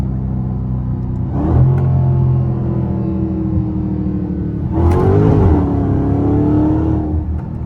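A Dodge Hellcat Redeye with a newly installed drive shaft bearing accelerates hard in two loud, rising surges of deep engine roar. A steady rumble runs between the pulls, with no talk.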